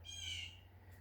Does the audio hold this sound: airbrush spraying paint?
no